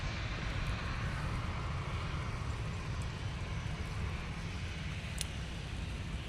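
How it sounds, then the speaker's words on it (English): A TUI Boeing 737 airliner at Manchester Airport, a steady broadband engine roar that holds at an even level throughout, with no voices. "TUI 737."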